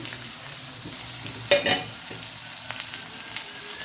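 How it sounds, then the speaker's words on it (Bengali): Chopped onions fry in a hot pan with a steady sizzle, a sharper burst of crackling as they hit the oil and are stirred, then continuous close frying with no talk. "এর মধ্যে পেঁয়াজ কুচোগুলো দিয়ে দেবো"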